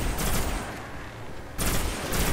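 Bursts of gunfire from an uncommon weapon in the Destiny shooter game, with loud rapid volleys at the start and again near the end and a quieter gap between them.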